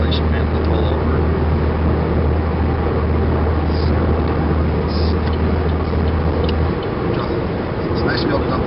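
Steady road and engine drone inside a 2012 Chevrolet Sonic cabin while driving, a dense continuous rumble with a low hum that drops away near the end, under someone talking throughout.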